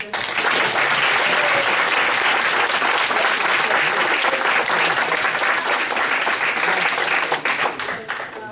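A room full of people at a borough council meeting gives a sustained round of applause, dense and loud throughout, tapering slightly at the very end.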